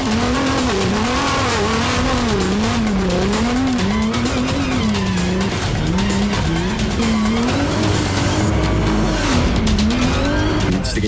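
Rally race car pushed hard over bumpy, mogul-like off-piste terrain, engine loudly revving up and down in rapid waves with tire scrabble and skidding, close and continuous with no talk.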